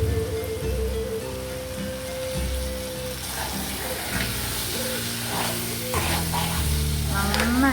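Chicken frying in oil as it is stirred, a crackling sizzle with scraping and stirring bursts over a running background of music or voices, moderately close and continuous.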